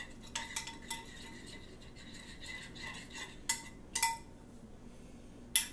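A spoon stirring a butter and lemon juice mixture in a dish for corn on the cob, soft scraping broken by a few sharp metallic clinks, close and quiet, with no one talking.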